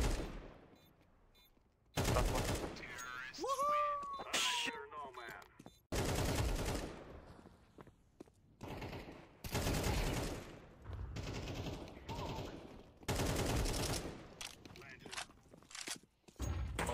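AK rifle fire in a competitive shooter, loud repeated bursts of automatic gunshots arriving in several dense volleys, with a voice talking between them.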